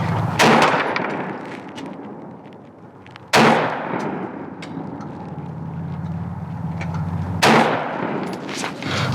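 AR-15 rifle shots at a 50-yard outdoor target: three sharp, loud cracks spaced several seconds apart, each with a short ringing tail over faint background noise.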